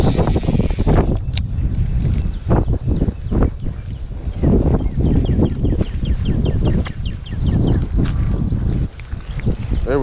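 Strong, steady wind buffeting the microphone on a lake during bass fishing, a constant low roar with gusts, plus water slap and a few faint knocks.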